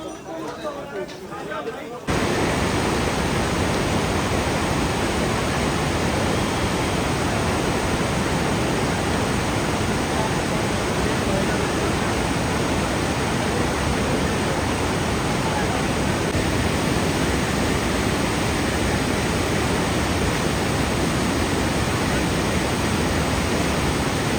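A fast-flowing mountain river on the Hemkunt Sahib trek rushes in a loud, steady, unbroken roar that fills the whole clip, with a faint murmur of voices at the very start.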